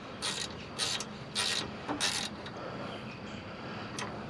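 Hand ratchet snugging the mounting bolts on a Honda CR-V AC compressor, with about four quick clicking bursts of ratcheting near the mic, then a fainter final burst over quiet shop ambience.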